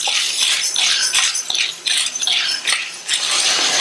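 White cowpeas are dry-roasted in a pan over a low flame and stirred steadily, making a continuous bright scraping and rattling in rhythmic sweeps with no voices.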